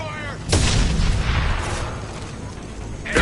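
Mass Effect 2 gunfire booms in two heavy, close blasts at the start and end of a short stretch, with rumbling noise and faint game sounds between them.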